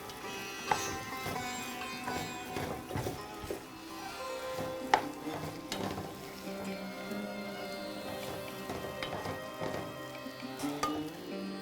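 A spoon stirs Kerala-style beef roast with onion and curry leaves in a pan, producing soft scraping and clinking under a faint sizzle, with irregular knocks against the metal throughout.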